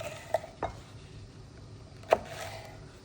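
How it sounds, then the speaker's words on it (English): A knife trims the ends off jalapeño peppers on a cutting board, giving three sharp, close chops, two in quick succession and a louder one a moment later, against a quiet room. "we are going to cut the ends off of our peppers and then split them down the middle"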